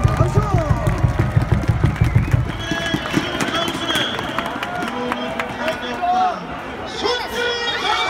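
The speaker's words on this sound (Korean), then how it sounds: "우리 치어리더들에게 응원의 박수" Crowd at a baseball stadium applauds the cheerleaders, starting with rhythmic clapping over a booming announcer voice, then dissolving into busy crowd noise and chatter.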